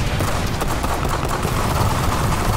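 Dense, loud burst of sustained gunfire, a rapid unbroken volley of shots filling the whole moment without pause.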